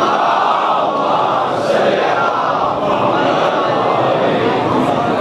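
A congregation at a Shia majlis (Sham-e-Ghariban) loudly recites salawat together, a dense sustained crowd roar of many voices filling the space throughout, steady and unbroken.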